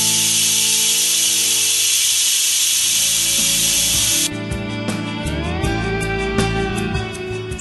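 Steam hisses loudly and steadily from a pressure cooker's vent, then cuts off abruptly partway through, leaving quieter clinks and a faint tonal ringing.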